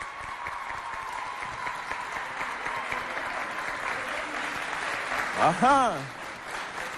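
An audience at a school contest between two lycées applauds a candidate, with steady dense clapping throughout and a brief vocal exclamation near the end.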